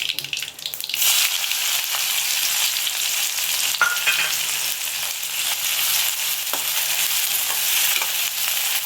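Chopped onions frying in hot oil with popped mustard seeds in a kadai for mutton paya, a loud steady sizzle that flares up after a quieter start, with occasional stirring clatter and no talk.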